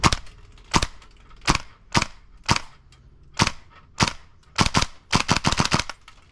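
A gas airsoft rifle fires on full auto in sharp, loud cracking bursts, first spaced single shots, then a rapid tight string of shots near the end, close and clear with no talking.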